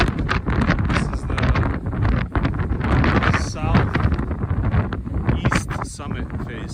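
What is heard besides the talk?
strong wind in a Utah canyon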